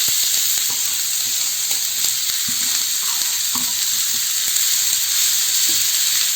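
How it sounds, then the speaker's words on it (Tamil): Onion, carrot and cabbage sautéing in a hot pan for a vegetable dosa filling, a steady close sizzle and hiss with soft stirring clicks and scrapes throughout, no voices. "வெங்காயம் பாதி வதங்கிருக்கு. இது கூட கேரட் சேர்க்குறேன். இது கூட கோஸும் சேர்த்துறேன்."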